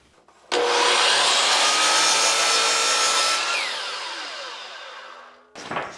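A miter saw spins up and cuts through a piece of pine in one loud, close whining pass, the blade noise tapering as it winds down, followed by a short thump.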